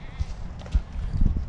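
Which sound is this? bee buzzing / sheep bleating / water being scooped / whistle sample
sheep bleating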